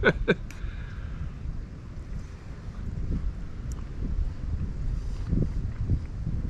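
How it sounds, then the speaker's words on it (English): Strong wind gusts buffet a campsite during solo truck camping, a steady low roar of wind noise across the microphone with swelling gusts, a few brief clicks near the start. "we get another 30-mile-an-hour wind gust"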